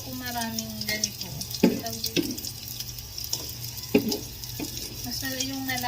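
Onion and garlic sauté in a pan with a steady sizzle and repeated clacks of a utensil against the metal, while running water and faint background voices are also audible.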